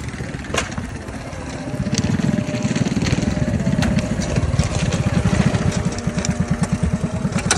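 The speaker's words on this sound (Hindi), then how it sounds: "जहाँ से वो मोटरसाइकिल आ रहा है ना" A motorcycle engine rumbles steadily nearby, growing louder and then holding a continuous mid-pitched drone as it passes on a street.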